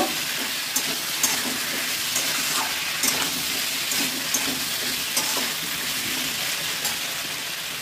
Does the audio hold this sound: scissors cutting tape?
no